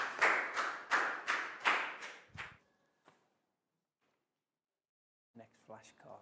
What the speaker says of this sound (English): a big round of applause for Preo